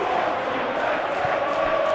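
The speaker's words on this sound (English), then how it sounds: "Well, the crowd clearly like what they just saw." Stadium crowd noise in the football video game eFootball PES 2021 during a Champions League match between Benfica and Barcelona, a steady roaring wash of cheering that stays constant throughout.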